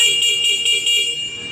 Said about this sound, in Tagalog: Yan, stock horn.